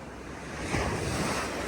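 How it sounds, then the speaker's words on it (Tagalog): Strong surf roars steadily on a Bohol beach, a heavy wash of breaking waves swelling slightly louder midway, mixed with wind buffeting the microphone. "Ang lakas lang ng alon."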